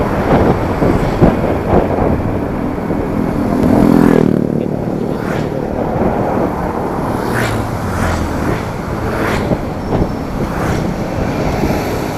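An old Yamaha Jupiter MX 135 motorcycle ridden through Bandung, its small engine droning steadily under heavy wind rush, with a brief swell in the middle and several sharp passing whooshes.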